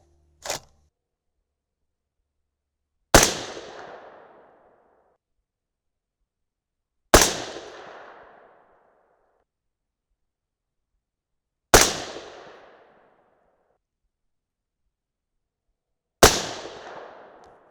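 Four loud, sharp rifle shots from an AR-10 in 6.5 Creedmoor firing 140-grain Speer Gold Dot rounds ring out alone, each spaced about four seconds apart with a short decaying echo, after a faint click.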